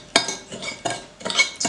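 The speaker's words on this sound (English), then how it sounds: "mix them together" Brown sugar and granulated sugar are stirred together in a bowl for cinnamon rolls, giving three quick scraping, clinking strokes of a utensil, close and unaccompanied.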